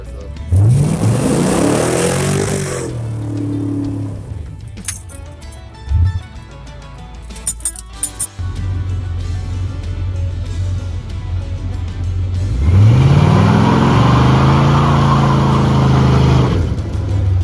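A car with a carbureted 5.3 LS swap pulls away on a street pass to warm its tires. The engine revs hard in a loud rising surge, settles into a steady idle rumble, then roars up loudly again.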